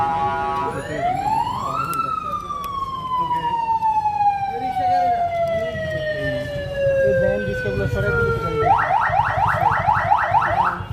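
A loud, close ambulance siren wails, rising quickly then sliding slowly down, before switching to a rapid yelping pattern.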